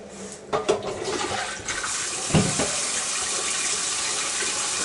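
Pasta and its cooking water poured from a pot into a colander set in a kitchen sink, giving a loud rushing splash that settles into a steady running-water hiss, with no talking.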